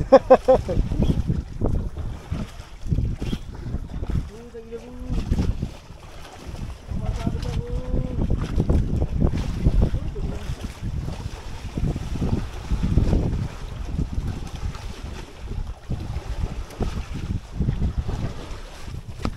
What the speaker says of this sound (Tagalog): Kumakarugkog na yung makina.